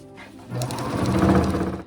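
Sewing machine stitching elastic into an adult front-closure diaper cover, a steady mechanical whir that grows louder halfway through and runs continuously to the end.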